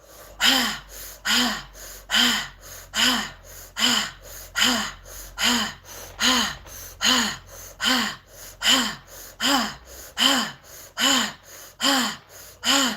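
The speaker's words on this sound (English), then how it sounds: "You will not fall asleep after 5 minutes. Not with this type of breathing." Deep, forceful breathing in a guided exercise for letting go of pain: about fifteen regular, strong inhale-exhale cycles close to the microphone, evenly spaced in a steady rhythm with no speech.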